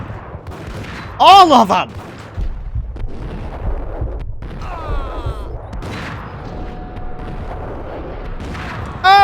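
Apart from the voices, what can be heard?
shotgun gunfire in the video game Max Payne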